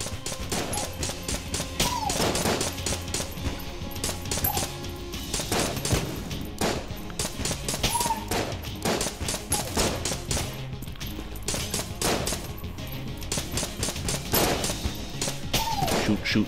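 Rapid gunfire from the twin-stick dungeon shooter Enter the Gungeon, a dense, continuous barrage of overlapping shots with chimes and effects layered over a steady loud background.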